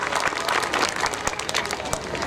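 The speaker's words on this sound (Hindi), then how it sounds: "मैं चाहूंगी जोरदार तालियों से उनको धन्यवाद दें।" Applause from a crowd at a farmers' fair in Dilauri, Azamgarh, thanking an official. The clapping is dense and steady and fills the whole moment, with a few sharper claps standing out.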